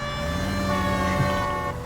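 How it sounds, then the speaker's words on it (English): A police car siren wails loud and close in the LA Noire video game, its steady tone sustained with no break and no talk over it. "when you have your sirens on in this game, the cars all move to the left"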